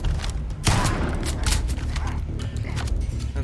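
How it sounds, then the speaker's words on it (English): A shotgun loaded with slug rounds fires in the space game Starfield. Heavy blasts come every half second or so, mixed with mechanical clanks and combat noise, loud and close. "The older shotgun with slug rounds is not only scarily accurate, it is very powerful."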